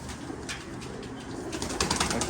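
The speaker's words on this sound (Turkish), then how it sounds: "Çok kaliteli, çok güzel kuşlar." Pigeons cooing in a spacious pigeon loft in Istanbul, soft low coos layered together with a brief flutter of wings and light rustling toward the end, close by and without talk.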